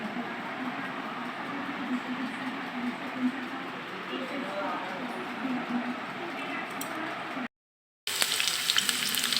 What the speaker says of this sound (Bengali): ফ্রাই প্যান বসিয়ে তেল গরম করে নিয়েছি এবার আমি দিয়ে দিব কেটে রাখা পেঁয়াজ কুচি দিয়ে দিব শুকনো মরিচ